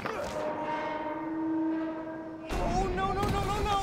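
A train draws near along the tracks in Spider-Man: Miles Morales, a sustained horn-like tone holding steady before a louder burst of rumbling, clattering rail noise takes over near the end.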